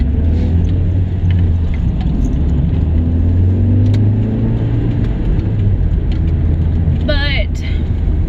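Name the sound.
road traffic moving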